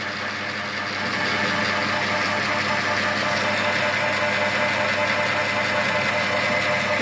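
A metal lathe, being modernised with an automatic carriage feed, runs in reverse while cutting metal, giving a steady, loud mechanical drone with a dense rattling hum that swells after the first second and holds throughout.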